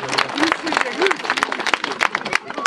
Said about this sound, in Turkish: Alkışlar lütfen